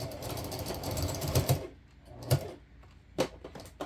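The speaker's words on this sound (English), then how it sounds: "I've got the quilting foot on. I've got the needle in the center. And off we go with a good back stitch." Sewing machine fitted with a quilting foot back stitching a quilted rice bag, running in short bursts of rapid needle clatter with gaps between them, close and fairly quiet.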